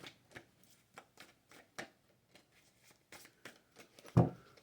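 A deck of cards shuffled for a card reading, making soft repeated riffling and tapping strokes at an uneven rhythm, close and quiet, ending with a louder thump, with no talking.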